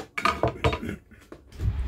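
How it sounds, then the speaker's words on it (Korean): Clinking and clattering of sliced lemon and lime pieces dropping into a blender jar, several quick knocks close by, no speech. "레몬과 라이무를 썰었으면 믹서기에다 집어넣겠습니다."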